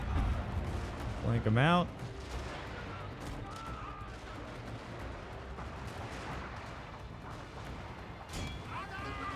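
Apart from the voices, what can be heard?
artillery bombardment in the video game Total War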